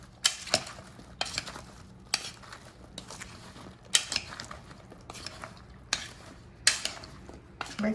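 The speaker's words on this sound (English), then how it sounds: "use a spoon to mix it well." A spoon stirring garlic through Brussels sprouts in a bowl, giving faint, irregular clinks and scrapes of metal against the dish at a quiet, close distance.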